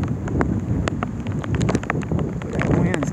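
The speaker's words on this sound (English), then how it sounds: "But that wind's kicking it up." Gusting wind outdoors buffets the microphone in loud, uneven rumbling bursts, with scattered clicks and rustles across the whole stretch.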